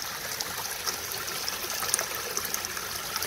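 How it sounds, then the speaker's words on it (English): Pool water features and skimmers pour a steady stream of water down into a backyard pool, a continuous close splashing rush with faint sparkling drips and no voices. "Skimmers are flowing sweet right down into the pool."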